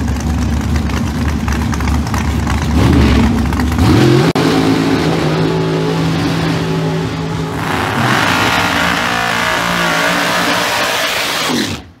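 Vinny La Russa's naturally aspirated Duster drag car with a 632 cubic inch engine launches at Maple Grove pro testing, its engine roaring loud and close before the pitch sweeps upward through gear changes and fades into a sustained scream.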